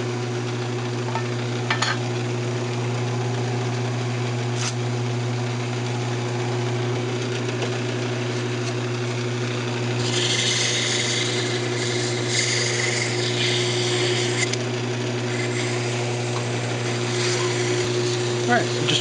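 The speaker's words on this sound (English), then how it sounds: "turn the lathe speed back down" A wood lathe spinning at reduced speed while a wooden perfume bottle is sanded, a steady close motor hum with a constant tonal drone and rougher hissing sanding bursts partway through.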